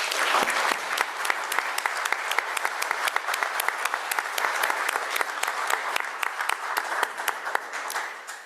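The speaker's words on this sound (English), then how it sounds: "If I could get a round of applause for all of our volunteers" A room full of people at a perfusion society welcome address applauding volunteers steadily, loud and sustained, with the clapping tapering off slightly at the end.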